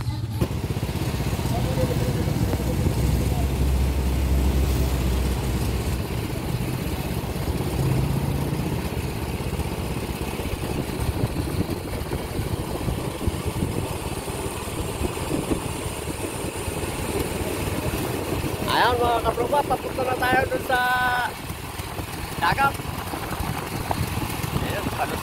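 A motorcycle fitted with a sidecar runs with a steady mid-pitched engine drone throughout, wind and road noise mixed in, and short bursts of voices near the end.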